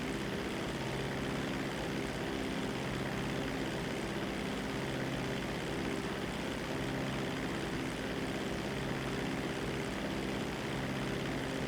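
A steady propeller-engine drone of a seaplane in a video game fills the clip, a constant mechanical hum with no pauses or voices.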